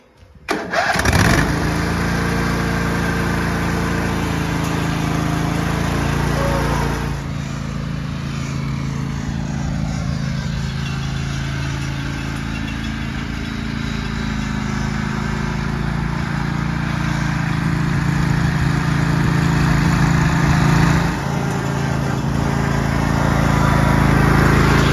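A homemade trackless train puller built from scrap has its small engine crank and catch near the start, then settle into a loud, steady, close-up idle that runs unbroken for the rest of the stretch, with a slight rise in revs toward the end.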